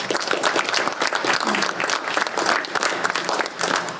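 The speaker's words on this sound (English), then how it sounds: "So I'd like to give Toyota a big round of applause as well." Audience applause at a Lugoff Toyota car giveaway, a lively, continuous burst of clapping from a crowd, loud and close, sustained throughout without speech.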